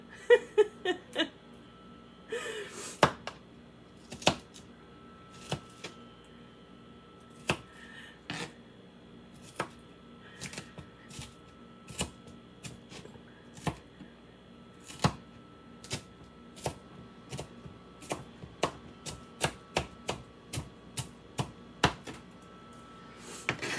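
A knife chops an onion on a cutting board for cheeseburger spring rolls, tapping in uneven bursts of sharp, quiet strikes with short pauses between them over a near-silent background.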